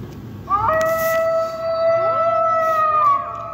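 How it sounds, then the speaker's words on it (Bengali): A jackal howls at night in a remote wooded spot, a long, wavering, siren-like wail with rising and falling pitch over a soft background hum, alone and fairly close. "এইমাত্র যোগ হলো শেয়ালের ডাক।"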